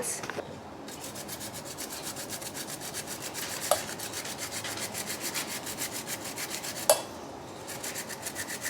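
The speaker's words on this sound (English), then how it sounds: "I'm going to use this cheese grater and this carrot to shred some carrot into my salad" A carrot is shredded on a handheld cheese grater, giving a steady, close, rapid rasping scrape with a rhythmic back-and-forth pulse and a couple of sharper knocks, with no talking.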